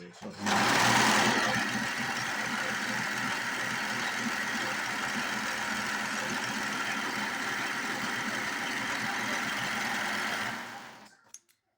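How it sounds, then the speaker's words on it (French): A serger overlocker finishes seams with a fast, continuous mechanical whir, close and steady, starting abruptly and running for about ten seconds before winding down. "Je vais faire les finitions à la surjeteuse."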